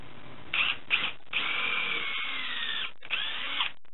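A power drill whirs in several bursts, a couple of brief starts followed by longer steady runs as it bores into the center of an axe handle's wood, close and loud.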